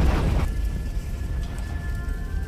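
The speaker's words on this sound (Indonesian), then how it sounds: "Tiba-tiba, rumah itu pun meledak, membuat ibu Jin tewas seketika." House explosion in a Tekken video game cutscene, a loud opening blast that settles into a heavy, rumbling roar of debris and fire, continuing without speech.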